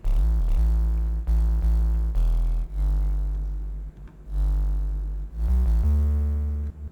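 A simple electronic drop bass synth patch: loud, heavy bass notes played in a rhythmic sequence of sustained swells with short gaps between them, with bright harmonics on top.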